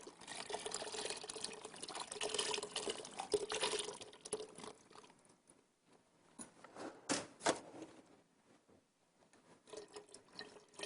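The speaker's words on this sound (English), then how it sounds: "next, get our broth in" Unsalted beef broth poured from cartons into a soup pot for French onion soup, a steady liquid splash running for several seconds before easing into intermittent glugs, drips and light clinks.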